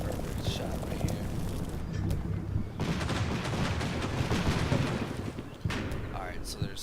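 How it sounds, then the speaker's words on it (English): Explosive fire from a half-track flak gun in the Combat Mission war game, a dense rattle of rapid shots and bursts through the whole stretch, with someone talking at times. "there's clearly like a half track with a flat gun right here. I can just tell by that explosive fire coming through"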